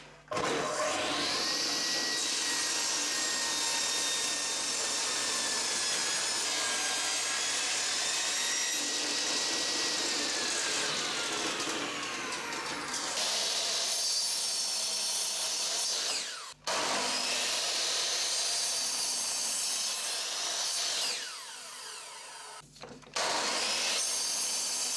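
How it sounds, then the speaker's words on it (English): A power saw cuts wood stock down into manageable pieces for mid-century modern lamp legs, a loud, continuous whining cut running for long stretches, with brief pauses between passes and no talking. "This will become the legs, but it will need to be sawn into manageable pieces"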